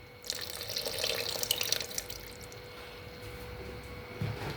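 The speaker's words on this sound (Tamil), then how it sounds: "இப்போ தேவையான அளவு தண்ணி ஊற்றிக்கலாம்." A stream of water is poured into a cooking pot of sautéed onions and biryani spice powder, a close, steady gushing splash lasting several seconds before easing off.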